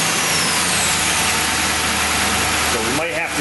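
The Hemi engine of a Ram 2500 pickup runs at a steady, loud, close idle for a few seconds, with a voice briefly audible over it.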